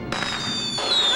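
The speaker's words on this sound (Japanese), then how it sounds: "その炎は瞬く間に地上に置かれていた大量の花火に引火、暴発を引き起こしてしまったのである" A large stack of fireworks on the ground at a fireworks festival goes off by accident after a burning balloon falls on it, making a loud, continuous crackling roar that grows slightly toward the end.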